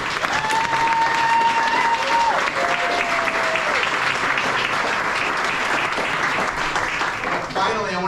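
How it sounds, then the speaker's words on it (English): Loud, steady applause fills a large homestead community gathering, dense clapping sustained for several seconds, with a voice faintly heard over it. "I just want to give a gigantic round of applause to those people who spent a week"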